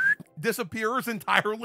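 A person gives a short, high-pitched whistle at the very start, and then speech follows.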